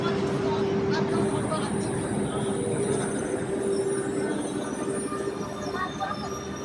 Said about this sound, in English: There's the train, 45 minutes from city center.